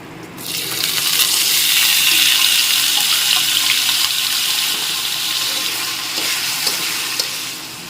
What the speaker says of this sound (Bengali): এখন আলু ভেজে নিচ্ছি